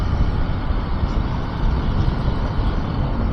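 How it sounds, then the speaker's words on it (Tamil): Dense, continuous roar of heavy road traffic in Coimbatore with a broad rushing noise and low rumble, steady and close throughout, no voices. "கோயம்புத்தூர் தாங்க, சரியான டிராஃபிக்காக இருக்குது."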